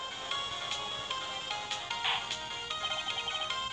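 Electronic chiming voice effect from a talking clock in the Phoenix Wright Ace Attorney video game, a thin, tinny trilling that sounds like a ringtone and repeats in quick pulses over faint background hiss, fairly quiet.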